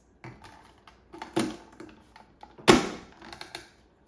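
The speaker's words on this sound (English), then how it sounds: "I'm going to cut out a brown paper tag with this hole punch." Faint clicks and rustles lead to one sharp, crisp hole punch through a brown paper tag, followed by light handling noises nearby.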